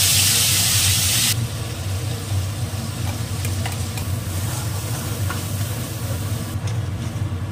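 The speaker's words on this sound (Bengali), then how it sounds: "আলু ভাজার তেলেই আমি মশলাটা দিয়ে কষে নেব।" Spices stir-fried in the oil left over from frying potatoes give a steady sizzle and scraping stir. A loud hiss opens the sound and then drops to a lower, continuous frying texture with occasional clicks, with no talk.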